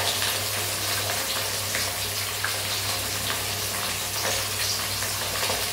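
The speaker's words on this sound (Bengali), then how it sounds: "এটা যেহেতু জ্যান্ত কাতলা মাছ ছিল, তাই খুব সহজেই এটা ভাজা হয়ে যাচ্ছে" Katla fish frying in oil in a kadai, a dense steady sizzle and crackle close up throughout, with no talk.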